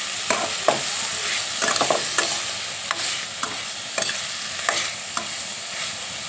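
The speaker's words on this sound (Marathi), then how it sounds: "छान असं परतून घेऊया आणि यामध्येच हे एवढे असे आपण काजू टाकणार आहोत" Cashews sautéed in a pan over a wood-fired stove, bright continuous sizzling broken by repeated spatula scrapes and taps in an uneven rhythm, close and without talk.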